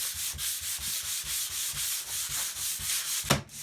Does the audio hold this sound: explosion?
no